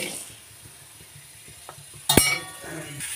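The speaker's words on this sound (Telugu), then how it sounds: "చూడండి, ఇట్లా మధ్యలో కలుపుతూ ఫ్రై చేసుకోవాలి" Masala podi spices dry-roasting in a pan while being stirred, giving soft scraping and faint sizzle with a couple of light clinks and a sharper spoon knock against the pan.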